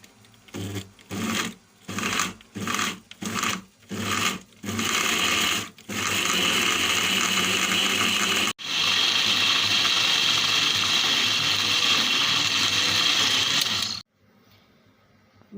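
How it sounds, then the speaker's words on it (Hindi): An electric grinder whirs through masala spice paste for stuffed eggplant, first in about eight short loud pulses, then in one long continuous grind before cutting off. "और इसको ग्राइंड करेंगे।"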